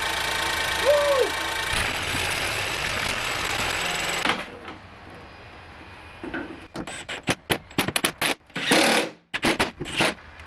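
A freshly installed Ford Fiesta EcoBoost engine idles with a steady, fairly loud running noise for about four seconds, then drops to a quieter background broken by scattered short knocks and clatters.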